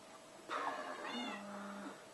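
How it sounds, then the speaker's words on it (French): A single cat meow from the Minecraft video game: a clear, close, drawn-out cry that rises and then falls, with a low tail at the end. "Un chat."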